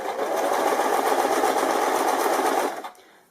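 A sewing machine runs steadily, stitching fabric in one loud, even burst of rapid needle strokes for nearly three seconds before it stops abruptly.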